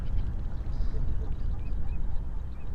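Teal ducks calling on the water at Urdaibai, faint scattered quacks and whistles spread across the clip over a steady low rumble of wind or background noise.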